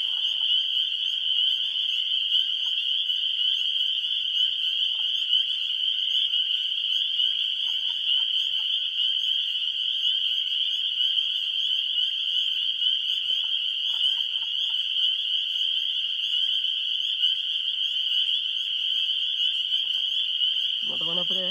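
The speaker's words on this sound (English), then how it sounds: "There's a leopard frog with the evil chuckle right behind me." A leopard frog calls from a marsh at dusk within a loud, unbroken chorus of frogs and high insect-like trilling that runs steadily throughout, with faint lower croaks underneath.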